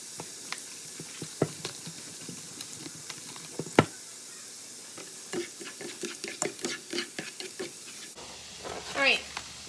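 Garlic sautéing in a pan for a keto meal, a soft steady sizzle with scattered stirring clicks, close but low, while someone talks over it.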